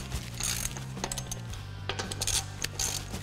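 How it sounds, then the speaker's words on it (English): A ratchet wrench snugs lug nuts onto a wheel hub, giving quick, close metallic clicking in short bursts over a low background hum. "You can snug them up with your ratchet."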